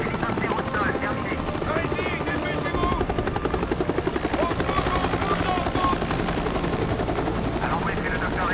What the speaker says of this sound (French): Hélicoptère au sol.